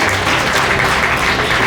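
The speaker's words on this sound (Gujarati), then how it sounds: "આપણે બાળકોને બિરદાવતા હોય ત્યારે તાળીઓથી વધાવતા રહીશું." An audience at a Leuva Patel community get-together in Ahmedabad applauds children, a loud, dense burst of continuous clapping from a large crowd, steady throughout with no speech.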